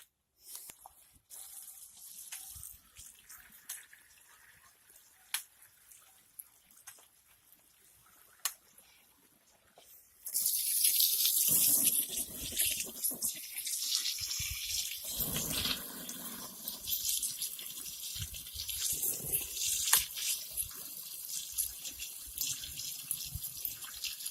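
Water from a garden hose pouring into a Giantex/Costway off-grid RV clothes washer, a faint trickle first, then a steady loud gushing stream splashing into the tub.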